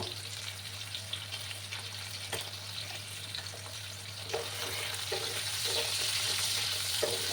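Potatoes fry in a pan with turmeric and salt, giving a steady, close sizzle with faint scraping and stirring throughout and no talking.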